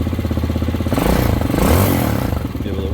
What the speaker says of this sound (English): So you can see I'm idling right around 1900 RPMs